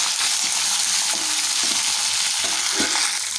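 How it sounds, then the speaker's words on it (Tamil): Chopped capsicum, carrot, chili and beans are stirred in a hot pan, a loud continuous sizzle broken by repeated scraping and tossing strokes of the spoon. "எல்லாத்தையும் சேர்த்துட்டு ஒரு தடவை நம்ம நல்லா மிக்ஸ் பண்ணி விட்டுக்கலாம்"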